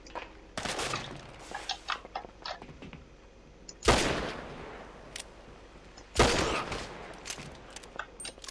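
Video game gunfire in GTA Online: scattered shots crack through the first seconds, followed by two heavy, loud bursts a couple of seconds apart, each trailing off, with sporadic single shots between them.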